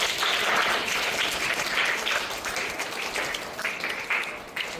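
Sustained applause and clapping from an audience at a school birthday celebration, a steady crowd of hands that holds fairly even then thins slightly toward the end, with no talk over it.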